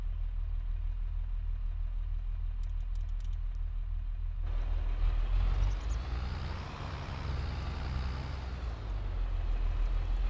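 A JCB Super Fastrac tractor engine in Farming Simulator 22 runs steadily with a low, continuous rumble and grows fuller and louder partway through, then holds. No talking.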